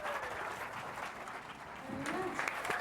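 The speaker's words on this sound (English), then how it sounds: "One more big round of applause for Teresa from Los Angeles." An audience at an entertainment contest applauds a contestant, a faint, distant sustained clapping with a brief vocal sound rising near the end.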